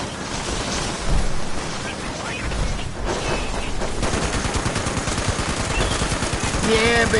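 Sustained rapid gunfire in Fallout 76, loud and dense bursts of automatic shots throughout with a brief lull midway, mixed with game effects.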